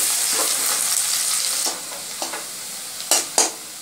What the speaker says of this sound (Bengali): তেল গরম হয়ে গেছে, তেলের মধ্যে প্রথমে প্যাঁচ কিছুটা আমি ভেজে নেব